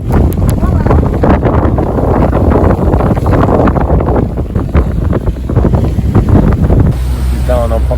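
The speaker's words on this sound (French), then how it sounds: "On a encore un grain qui arrive, là" A sailboat out at sea in a squall, with loud strong wind buffeting the microphone and rushing water against the hull, a constant roar that drops briefly near the end.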